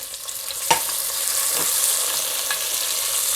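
Tomatoes go into a hot pan over low-to-medium heat and set off a steady, close sizzle, with a couple of sharp clinks early on and no voices.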